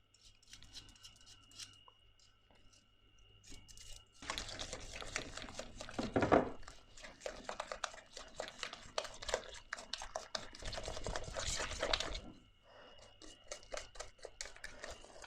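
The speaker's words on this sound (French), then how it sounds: "Je vais maintenant pouvoir mélanger au fouet." Eggless, gluten-free vegan cake batter being beaten by hand with a whisk in a bowl, a dense scraping, clattering rhythm running steadily for several seconds in the middle, nearby and fairly loud, with quiet handling before and after.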